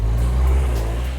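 A Porsche car engine running, a loud, close, low steady rumble lasting about a second with no voices.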